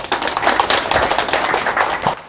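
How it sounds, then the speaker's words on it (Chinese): An audience claps to welcome a speaker, dense continuous applause from many hands filling the room loudly and evenly. "下面我们就用热烈的掌声欢迎"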